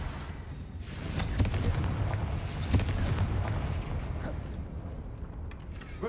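Confringo spell explosions in a video game sound as a few dull, booming blasts over a rumbling background, moderately loud, with no talking.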